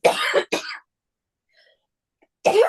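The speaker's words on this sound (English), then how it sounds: "Don't mean to cough" Two quick harsh coughs close to the mic, a pause of near silence, then another cough burst.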